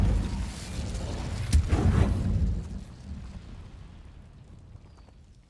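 Incendio fire spell cast in Hogwarts Legacy, a loud whooshing burst that flares sharply then rumbles and fades away over several seconds, without talk.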